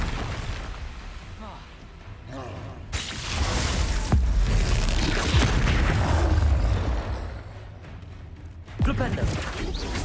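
A Confringo spell blast in the video game Hogwarts Legacy, heard as loud, rumbling explosive booms and crackling bursts layered over dense game sound effects and continuous background noise.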